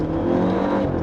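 Maserati Ghibli mild-hybrid four-cylinder of about 330 hp, revving in sport mode: a steady, loud engine drone with a strong low rumble held for the whole second, close and with no voices.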